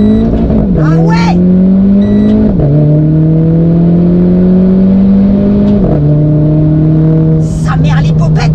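A Renault Clio RS engine in race mode revs hard toward the rev limiter, a loud, close, rising drone that drops sharply at each manual upshift, twice, then climbs again, with a brief voice near the start and end.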